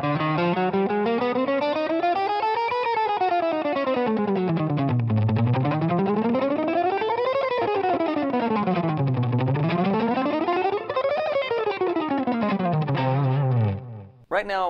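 Electric guitar exercise played loud and sustained through an effects unit with distortion and chorus, notes sweeping up and down in repeated arcs and gradually getting faster, ending abruptly.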